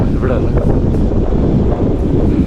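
On the Agasthyarkoodam mountain trek, strong wind buffets the microphone with loud low-pitched rumbling gusts that rise and fall continuously.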